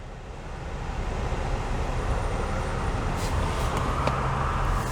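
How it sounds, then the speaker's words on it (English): Cars pass along County Road 44A with a continuous roadway rush that swells slightly as vehicles go by close, steady and fairly loud with no speech. "Waiting for a few cars."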